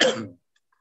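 A man with chest pain gives a single short cough that fades quickly, close and loud, followed by silence.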